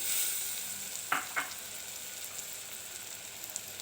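Drumstick pods fry in oil in a pan with onion and tomato, giving a steady sizzle broken by a couple of sharp stirring scrapes near the start.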